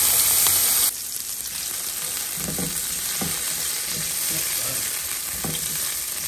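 Garlic (bawang) frying in hot oil in a pan gives a steady close sizzle, with a few soft stirring scrapes and clinks over it.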